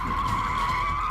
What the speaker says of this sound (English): a maneuver that turns or spins a vehicle to end a pursuit